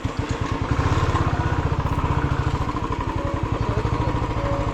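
Motorbike engine running as it rolls into the grounds of a boys' hostel in Moodbidri, a close, rapid chugging putter with a steady pulsing beat, loud and continuous.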